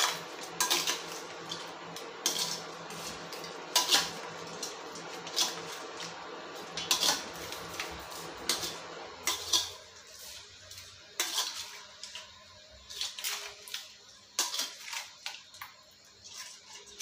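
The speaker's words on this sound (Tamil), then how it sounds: "இப்போ வந்து இதை நல்லா கிண்டி விட்டுறணும்" Potato noodles are stirred in a pan, with a run of sharp utensil scrapes and clinks against the metal in an uneven rhythm, close and clear with quieter gaps between strokes.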